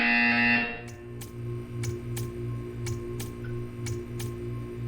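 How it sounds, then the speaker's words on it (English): Repeated buzzer sounds from the Portal 2 video game: a steady train of short, evenly spaced buzzes with sharp clicks, following a brief tonal chime at the start, with a low hum underneath and no talk. "You will hear a buzzer."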